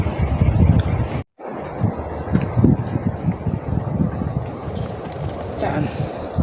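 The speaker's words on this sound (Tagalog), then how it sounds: "Kahit medyo hibas, malalaki pa din yung mga alon." Strong northeast monsoon wind buffets the microphone at sea, a loud, continuous rumbling roar with big waves beneath it and a brief dropout early on.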